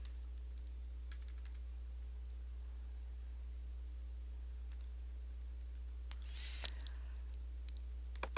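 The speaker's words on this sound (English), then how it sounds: "I typed in the word JSchool" Quick bursts of typing on a computer keyboard, soft scattered key clicks in short runs with pauses, close and fairly quiet over a steady low electrical hum.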